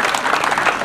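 Audience at an event applauding, a steady dense wash of many hands clapping at once, loud and continuous through the short burst with no pauses.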